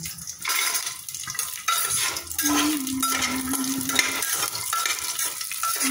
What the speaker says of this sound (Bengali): এবার কাজু কিশমিশ বাদাম একসাথে দিয়ে ভেজে নেব।